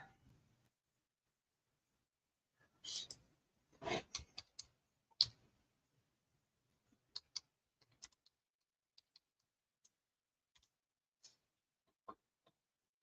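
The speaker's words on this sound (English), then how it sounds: "I type in electric fence" Typing on a computer keyboard, faint sparse clicks and short bursts of keystrokes at an irregular pace in a quiet room, with a few louder clusters early on and isolated taps later.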